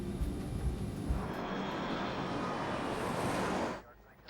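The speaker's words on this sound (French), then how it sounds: "Juste après le décollage, l'avion vire à gauche vers son premier point de cheminement." An airliner's engines roar in a broad, steady rush just after takeoff in low cloud, then the noise drops away abruptly near the end.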